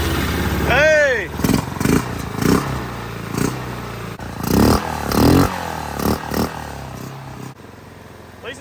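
A Yamaha Grizzly 660 ATV engine, with its carburetor just filled using a broken funnel, cranks and catches after almost three years unused, then sputters and revs in uneven bursts with clattering, while people talk and shout close by.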